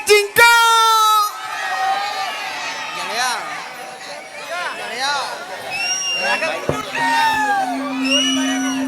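A crowd at a lively Kannada folk stage performance cheers and claps loudly, with whoops and shouted voices rising and falling through the noise, and a few tonal sounds near the end.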